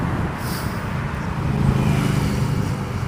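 Steady broadband roar of traffic on wide, fast San Jose Avenue in San Francisco, a dense low rumble of passing cars and heavier vehicles that swells slightly midway, continuous with no talk over it.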